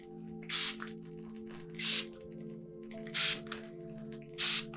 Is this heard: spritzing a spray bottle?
yes